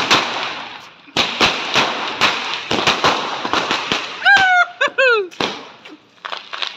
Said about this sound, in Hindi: अभी हम पटाखे स्टार्ट कर दिए जलाने